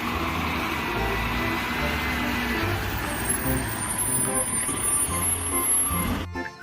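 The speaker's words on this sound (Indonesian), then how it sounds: "Wah, ada truk sampah." Toy garbage truck, a mechanical whirr with high electronic beeping and tones that join later, under a voice talking close by, before a sudden cut-off at the end.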